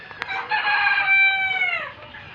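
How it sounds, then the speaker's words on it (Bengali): A rooster among native farm chickens gives one loud, close crow, drawn out over about a second and a half, after a short cluck, with no talking. "এগুলো একটু ডিম পাড়া মুরগি ডিম পাচ্ছে রানিং চার পাঁচ মাস যাবত ডিম পাচ্ছে"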